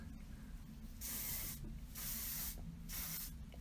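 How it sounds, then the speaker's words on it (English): Three close hissing bursts of hairspray from an aerosol can, sprayed between curls, each about half a second long, with quiet pauses between. "you just start spraying it between your curls"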